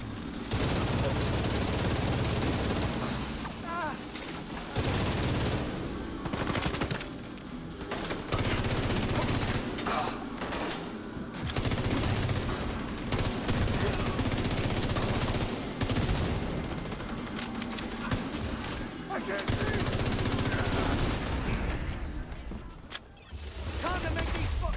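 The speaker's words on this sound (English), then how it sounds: "I'll grab my minigun here, just because I want to get some of those as well." A minigun fires in a shooter game, long loud continuous bursts of rapid gunfire repeating across the whole stretch with brief pauses, while someone talks over it.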